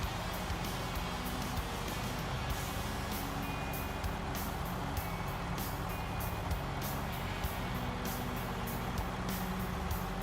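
Heavy trucks rumble steadily in the Snowrunner video game while a rapid series of reversing beeps repeats throughout, with occasional air-brake hiss layered over the continuous engine drone.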